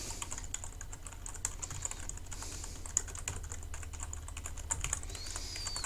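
Continuous typing on a computer keyboard while entering a form description, a steady patter of light key clicks at close range over a low background hum, with no talking.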